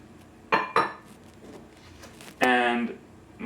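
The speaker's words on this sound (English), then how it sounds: "And then I'm going to put in my flour and my baking powder" Dry flour and baking powder tipped into a mixing bowl for gluten-free scones, giving two quick soft impacts followed by a longer pouring rush against the bowl, close and moderately loud in a quiet kitchen.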